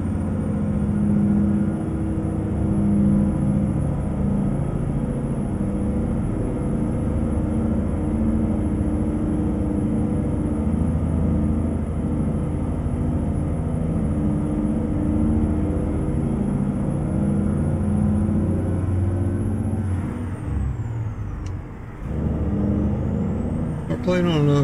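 A truck engine in American Truck Simulator drones steadily as the rig climbs a hill in one held gear while hauling an oversized load. The low rumble is constant, with a thin high whine above it and a brief disturbance near the end.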